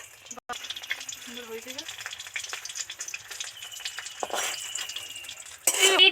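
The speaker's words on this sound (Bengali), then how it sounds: "ভিতরে তো আস্তে আস্তে তেলগুলো টুকবুক টুকবুক করে কেমন বুজবুজ করে আওয়াজ হচ্ছে" Oil bubbling and sizzling steadily in a pan while eggplant paturi fries, a soft continuous crackle with a sharper burst of sizzle near the end and faint background noises.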